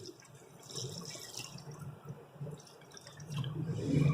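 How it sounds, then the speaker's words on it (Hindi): Water is poured into a pot of beef for shami kabab, a soft splashing and trickling that grows fuller toward the end, close and fairly quiet. "और अब इसके अंदर हम पानी डालेंगे।"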